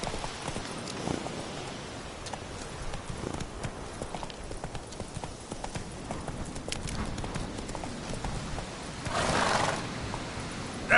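Roach, a horse in the PS4 version of The Witcher 3 video game, gallops with a quick, continuous hoofbeat patter at mid distance, and near the end a short louder rush of noise swells over it.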